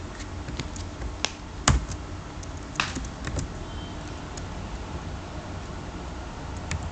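Java code being typed on a computer keyboard, with scattered key clicks and a few sharper taps, fairly close over a quiet background.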